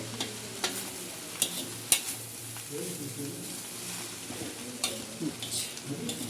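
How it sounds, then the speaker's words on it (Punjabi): A spoon scrapes and stirs rice in a cooking pot with a soft sizzle underneath, punctuated by several sharp knocks against the pot's side, with a voice talking over it. "ਹੁਣ ਆਪਾਂ ਇਹਨੂੰ ਚੰਗੀ ਤਰ੍ਹਾਂ ਰਲਾ ਦਾਂਗੇ"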